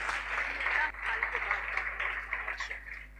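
A church congregation at a Sunday testimony service claps for a healing testimony, a diffuse spread of applause heard somewhat distantly through a boomy room, with talking continuing over it.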